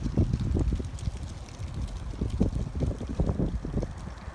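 Gusty wind buffets the microphone on a dry, windy day in a small town, a steady low roar with rumbling bursts and no talk.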